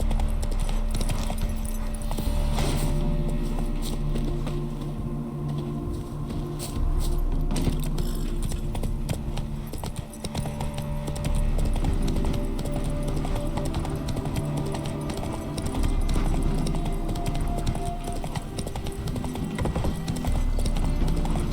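Horse hooves clip-clop steadily and continuously on the ground in The Witcher 3, a loud rhythmic trot layered over ambient game sound, with no talk.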